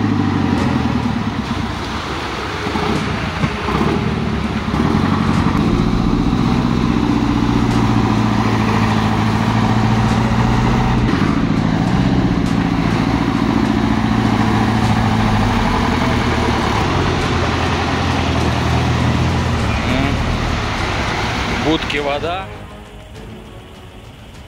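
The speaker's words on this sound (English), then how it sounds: "The T-150 is stuck in the swamp, unable to move. But, immediately, the powerful timber truck rushes in to assist" A T-150 tractor and a heavy timber truck grind their engines in a swamp, a steady loud diesel drone with shifting pitch, then cutting off abruptly near the end.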